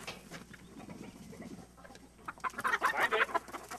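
Chickens cluck in a backyard coop, with a low, scattered murmur at first that grows into a busier burst of close clucking and squawks toward the end.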